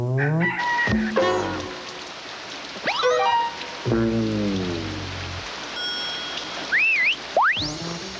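A cartoon rooster crows a few times in a 1991 Kellogg's Corn Flakes commercial, the calls rising and falling, mixed with sharp sweeping tones and short bursts of other sounds.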